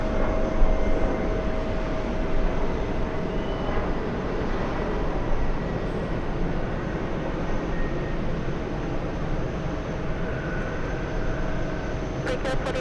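An Etihad airliner at JFK gives a steady, loud broadband engine roar that holds throughout, with distant talk in the background.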